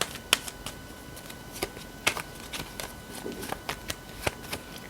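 Tarot cards are shuffled by hand in a quiet room, giving a series of crisp, irregular flicks and riffles, soft and close, scattered across a few seconds.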